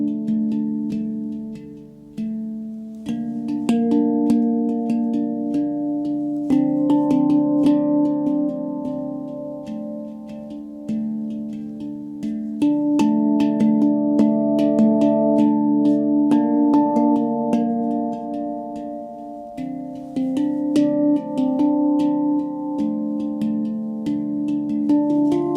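A handpan plays a steady looping pattern of ringing metallic notes, mellow and resonant with long sustain, each struck tone overlapping the last at a moderate, even pace, close and clear with no voices.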